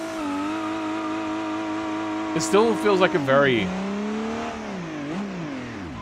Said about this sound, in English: Engine sounds. What are the engine sounds like?